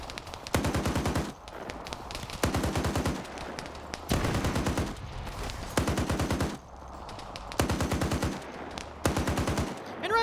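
Automatic gunfire in a military video game raid on anti-aircraft sites comes as loud sustained bursts of rapid shots, several volleys separated by short pauses.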